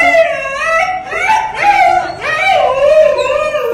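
Large Rottweiler dogs at a home kennel in Kolkata howl and whine loudly in long wavering cries, close up, with a few yips mixed in.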